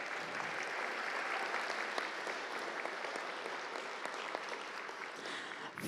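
Steady, dense applause from the audience at the ReaperCon 2023 MSP Open awards ceremony for miniature painting, even and sustained from start to finish with no clear voices.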